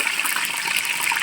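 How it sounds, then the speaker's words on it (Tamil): Mustard seeds dropped into about 100 grams of hot oil for a village-style fish curry give a steady, close, crackling sizzle. It sounds alone, with no voices. "எண்ணெய் பொரிஞ்சோடனே லைட்டாக கடுகு கொஞ்சம் போடணும்"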